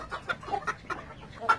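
Brahma chickens at a bird market give several short, soft clucks in quick succession, close by and fairly quiet.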